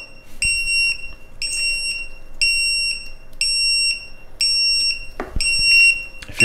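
Loud, high-pitched electronic alarm beeping from a Li-ion battery board warning of a cell fault or over-discharge, in repeated short bursts, roughly one per second, piercing and close, with no voices.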